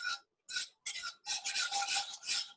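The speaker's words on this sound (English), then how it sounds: "So take your whisk and lightly stir it." A whisk lightly stirring hot sauce for a tuna pasta bake, making close, crisp scraping strokes against the pan in a quick uneven rhythm with short gaps, heard alone.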